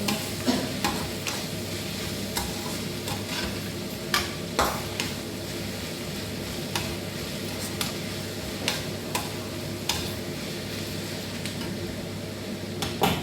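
Beef masala sautés in a pan under a low, steady sizzle, while a utensil taps and scrapes against the metal in regular clicking strokes; the sounds are close and moderately quiet, with no voices.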